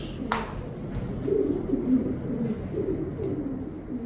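Pigeons cooing softly nearby in low, rolling murmurs, with a brief sharp tap near the start.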